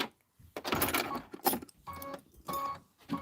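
An embroidery sewing machine stitches a Kimberbell winter design in short, stop-start bursts of mechanical whirring and tapping, close by, with brief quiet gaps between runs.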